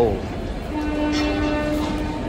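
A Darjeeling toy train at Kurseong station sounds a long, steady horn tone over a continuous rumbling platform background.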